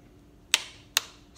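A torque wrench set to 60 inch pounds clicks on a bicycle headset bolt, two sharp, close clicks about half a second apart in an otherwise quiet space.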